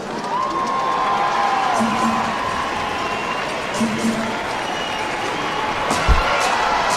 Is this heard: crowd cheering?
yes